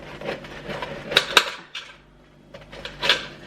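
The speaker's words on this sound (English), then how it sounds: "cut it into pretty big slices" A knife cuts through an old, nearly whole loaf of bread on a board, giving dry crunchy sawing strokes with a few sharp clicks and knocks, close and moderately loud, with no voices.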